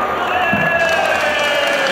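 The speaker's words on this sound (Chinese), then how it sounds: "支持雞神嘅請拍掌。" Spectators at a D1GP champion drift race meeting clap and cheer in a loud, sustained crowd roar, with steady tonal hum running beneath the noise throughout.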